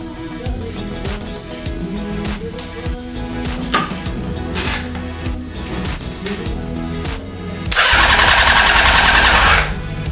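A dune buggy engine runs to flush milky, contaminated oil from the crankcase, a rough mechanical drone that surges into a loud, harsh rev near the end before easing back.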